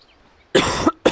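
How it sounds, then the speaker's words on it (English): Two sharp coughs close to the microphone, the first longer and the second brief, after near silence. "Why do I have a cough in my throat?"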